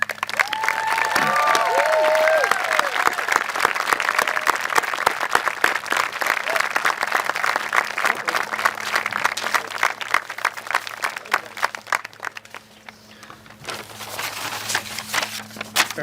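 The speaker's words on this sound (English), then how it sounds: "we can recognize them with a round of applause" A room full of colleagues standing to honour a graduating class breaks into sustained applause, loud and dense from the start, thinning toward the end before a smaller burst of clapping returns; some voices and cheers mingle in the crowd.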